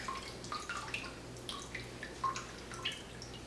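Water squeezed from cooked cauliflower drips steadily into a bowl, small faint splashes over a quiet hiss.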